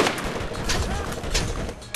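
Rapid SMG fire from Bonehead in Borderlands, a short rattling stream of shots mixed with game effects and ending in a sharp louder burst.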